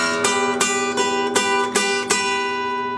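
Acoustic guitar plays a Delta blues bass line with a pinched lick, six sharp plucked attacks at an even pulse over a sustained ringing drone, close and clear with no voices.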